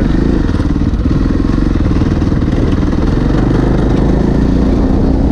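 Yamaha XT660Z Ténéré motorcycle ridden along a sandy track, its single-cylinder engine droning loud and steady up close for the whole stretch, with no talking.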